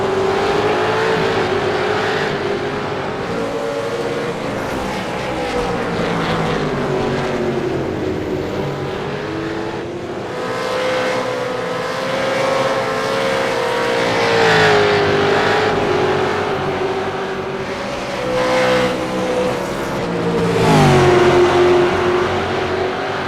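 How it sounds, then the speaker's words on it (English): Onboard sound from the Angry Birds V8 racing car at Road America, a loud, continuous engine drone that climbs and falls through gear changes, with a sharp rev shift near the end. "Angry Birds racing car we're on board with now."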